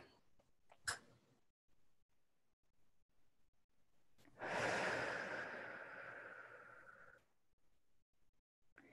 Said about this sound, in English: And now take one more deep breath.